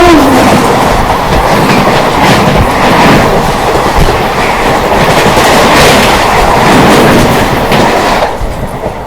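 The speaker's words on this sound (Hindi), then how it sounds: "दोस्तों सामने से आ रही है 12003 लखनऊ नई दिल्ली स्वर्ण शताब्दी एक्सप्रेस" The 12003 Lucknow–New Delhi Swarna Shatabdi Express rushes past at speed on Indian railway track, a loud, close, continuous roar of wheels and coaches with a clickety rhythm that fades away near the end.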